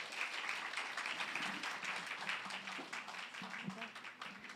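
Congregation applause at a Sunday church service in San Diego welcoming a departing pastor, a steady wash of many hands clapping throughout, fairly near and even in level, with no talk over it.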